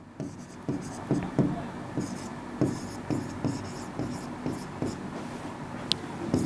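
Marker or chalk strokes on a board during a chemistry lesson, a series of rhythmic scratches and taps at a steady pace, heard alongside a teacher's low voice.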